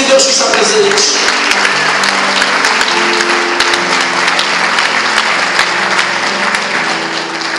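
A church congregation bursts into loud, sustained applause, dense clapping from many hands filling the room close by, with speech faintly mixed in.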